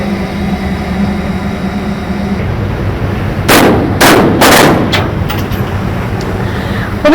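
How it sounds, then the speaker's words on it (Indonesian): Warning gunshots fired by fisheries patrol officers at Vietnamese fishing boats at sea: three or four loud, sharp cracks in quick succession, followed by a fainter shot, over steady engine and wind rumble. "baru saja dilakukan tembakan peringatan kedua, dan tembakan kedua ini dilakukan oleh 3 orang petugas dari PSDKP"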